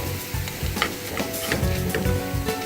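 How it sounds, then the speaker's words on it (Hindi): Chili hits a pot of cooking dal and sizzles loudly while being stirred. Steady frying hiss runs throughout, with the scrape of a spoon coming through several times, close and without any voices. "मैं इसमें डालती हूँ मिर्च"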